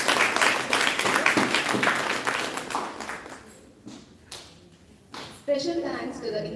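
Audience at the Mythri '22 cultural event applauding, dense clapping for about three seconds that thins into scattered claps and thumps, then a voice speaks over a quieter room.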